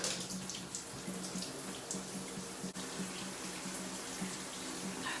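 Water runs steadily from a tap while a coffee scrub is rinsed off skin, a constant close hiss and splash with no talk.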